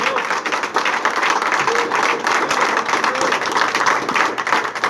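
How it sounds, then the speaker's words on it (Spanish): A church congregation breaks into sustained applause, a dense and fairly loud wash of many hands clapping together. It holds steady throughout without fading. "Bríndele un aplauso al Señor."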